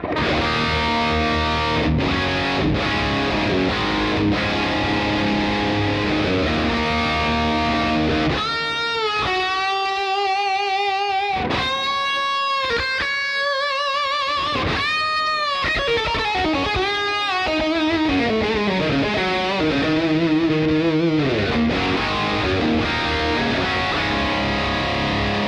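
Washburn N4 electric guitar played through a Marshall JVM amp with heavy distortion, with reverb and delay on it: a dense chugging riff that breaks into sustained lead notes and bends, loud and up front with no talk.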